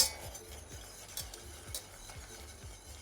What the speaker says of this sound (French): et vous remuez jusqu'à ce que Ça soit bien dissous